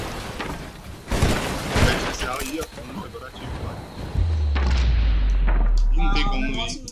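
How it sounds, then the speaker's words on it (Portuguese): An explosion in the side-scrolling action game Broforce, a loud booming blast with rumbling low-end tail amid busy gunfire and crashing game noise. "A explosão lá atrás"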